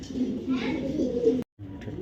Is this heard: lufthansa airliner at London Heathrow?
no